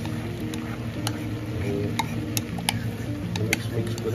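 Sisig gets stirred with mayonnaise in a hot pan, a steady soft sizzle under scattered sharp clicks and scrapes of the utensil against the metal, close and continuous.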